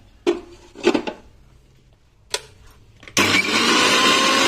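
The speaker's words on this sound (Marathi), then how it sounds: "एक चमचा जिरं सैंधव मीठ थोडी चवीपुरती साखर मिक्सरला बारीक करून घेऊया" A kitchen mixer grinder whirs into a loud, steady grind of cumin, rock salt and sugar with green chillies and ginger, preceded by a few brief clinks and knocks as the jar is set up.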